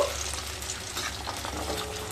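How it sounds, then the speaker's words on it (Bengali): Onion frying with fish oil in a pan over a medium-low flame, a steady soft crackling sizzle that carries on evenly and close by with no talk. "মিডিয়াম টু লো ফ্লেমে পেঁয়াজ আর মাছের তেলকে ভেজে নিয়ে তারপর ফিরে আসছি।"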